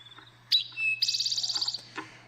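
Rufous-sided towhee singing nearby, a sharp introductory note followed by a fast, buzzy trill of repeated notes, clear and alone over a faint low hum.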